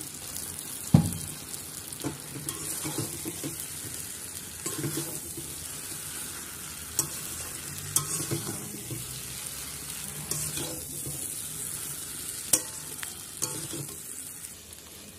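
Jackfruit and prawns with fried potato are stir-fried in a well-cooked spice masala, with a steady oily sizzle throughout and the scrape of a spatula against the pan at intervals, close and fairly quiet.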